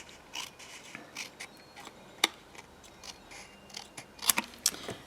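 Scissors trim the adhesive tab of a paper ribbon box, with short, sharp snips and light crisp cuts scattered irregularly over quiet, close-up paper rustling.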